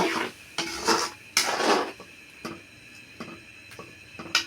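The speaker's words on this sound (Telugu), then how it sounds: "బాగా కలుపుకోవాలండి." A spoon stirs gongura curry with water in a metal pot, giving a few scraping clanks early on followed by lighter, scattered taps and clinks close by.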